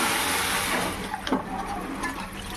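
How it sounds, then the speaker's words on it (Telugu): Water is poured from a cup into a cooking pot of rice, a continuous close splashing gush lasting a few seconds, with no talk over it. "ఇప్పుడు మనం వాటర్ అయితే వేసేసుకుంటున్నాం దీంట్లోకి."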